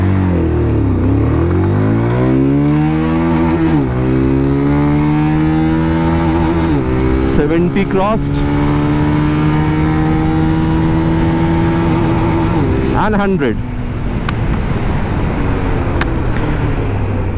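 Bajaj Pulsar 220F with its BS6 OBD2 engine accelerating hard from first gear, the close engine note sweeping upward through repeated revs with brief drops at each gear change, and a few spoken words mixed in.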